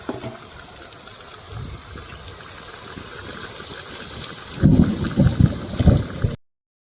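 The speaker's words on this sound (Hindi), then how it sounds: "वर्षा होची" Rain falls in a jungle with a steady hiss while thunder rumbles low, swelling to heavier rolling booms near the end before cutting off abruptly.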